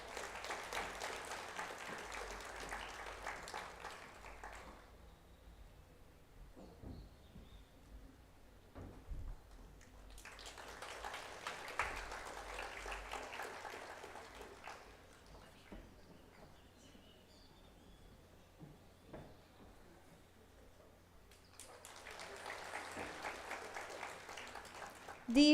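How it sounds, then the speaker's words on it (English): Audience applause at a school graduation and awards ceremony, heard as three separate bursts of clapping, each lasting several seconds, moderately distant in a large room, with quieter gaps between them. "Let's give Priya a round of applause."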